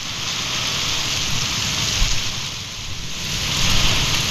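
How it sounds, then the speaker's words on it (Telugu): Heavy rain driven by gusty winds during Cyclone Remal in Telangana, a loud, dense roar of rainfall with swelling gusts and no talking. "ఈదురు గాలులతో కూడిన భారీ వర్షం కురుస్తోంది."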